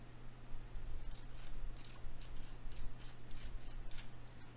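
Scissors snip through a paper shape, cutting it diagonally into two halves, with a series of close, crisp cuts over a low steady hum and no talking.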